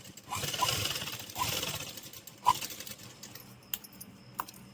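A domestic sewing machine stitches a seam on a children's silk skirt, its motor whirring in a few short runs of close, steady stitching with small clicks and metallic taps between them.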